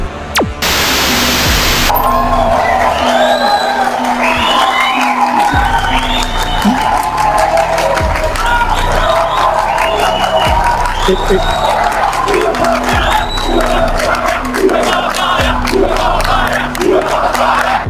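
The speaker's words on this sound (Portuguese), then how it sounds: "essa galera aqui assim, batendo palma, aplaudindo, incentivando eles" A church congregation claps and applauds steadily for the whole stretch, a dense, loud crowd sound with cheering voices mixed in, after a brief burst of noise at the start.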